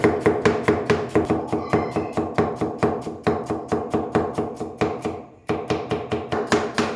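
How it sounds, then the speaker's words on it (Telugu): A knife chops cabbage on a board in quick, even strokes, loud and close, with one brief pause before the rhythmic chopping resumes. "ముందుగా క్యాబేజ్ కట్ చేసుకుందాం."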